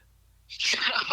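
A voice mimics a sneeze with one quick, breathy, hissing burst, close and fairly loud, cut off abruptly.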